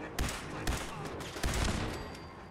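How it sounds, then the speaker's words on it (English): A hostile turret in Fallout 4 fires in a series of sharp, separate shots spaced irregularly over a couple of seconds, set against steady game background noise. "That turret should not be firing at us."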